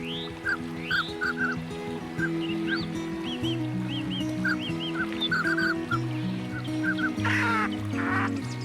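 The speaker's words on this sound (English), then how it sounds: "The mandarin duck is a species that represents the beauty of Siberian fauna." A mandarin duck calls on a Siberian river, giving short squeaky notes that repeat in scattered bursts over a steady, layered background of other waterfowl and ambient noise.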